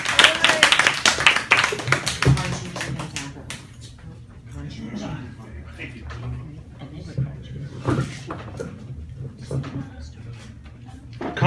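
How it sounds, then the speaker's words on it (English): An audience at a comedy workshop claps in a short burst of applause at the start, then scattered claps and shuffling sounds continue under a speaking voice. "Y'all clap it up for him, guys."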